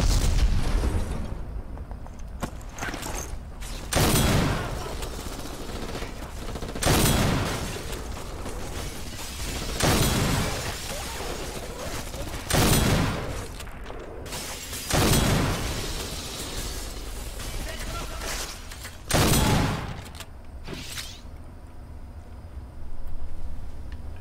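Grenade blasts and gunfire in the shooter video game Black: about eight loud, booming explosions burst out every few seconds over a steady rumbling battle bed, with no voices in between.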